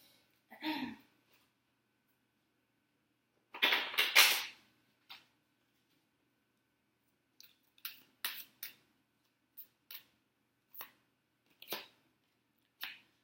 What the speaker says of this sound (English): one more shuffle, guys, and then we'll be ready.